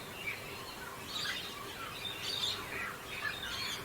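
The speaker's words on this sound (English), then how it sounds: "there are many birds here" Birds calling along the Katherine River at Nitmiluk, bright squawks and chirps repeating in short bursts every second or so over a soft, steady outdoor background.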